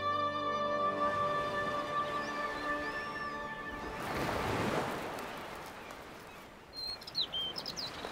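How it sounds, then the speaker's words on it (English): Surf breaking against the base of the steep Rock of Gibraltar, a swelling wash of waves rising and falling under tonal music, with bird chirps scattered on top, mid-distance and moderately loud. "This steep rock is lashed by the surf at its base"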